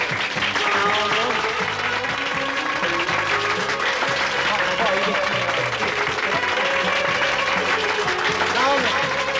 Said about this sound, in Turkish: sizlerden çok değerli saz arkadaşlarımı hep birlikte alkışlamanızı rica